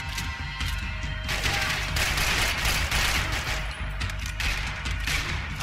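Gunfire in Max Payne 3, dense bursts of shots and impacts layered with game effects and a low rumble, loud and continuous throughout.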